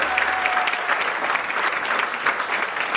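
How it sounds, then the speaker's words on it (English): A crowd of wedding guests applauds after a speech, dense steady clapping filling the room at close range, with no voices over it. "Well worth a round of applause, don't you think?"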